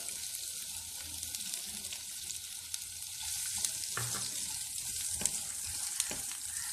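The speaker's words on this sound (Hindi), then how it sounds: "गोल्डन नहीं करना, हमने इसे हल्की सी सॉफ्ट करना है बस प्याज को।" Onions and cumin fry in a pan with a steady, bright sizzle, punctuated by occasional clicks and stirring scrapes up close.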